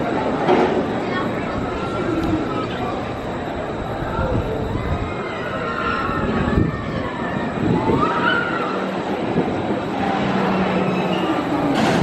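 Red Force roller coaster ride at Ferrari Land, PortAventura World, with a continuous loud rushing rumble of the train on the track, wind noise and riders shouting and screaming throughout.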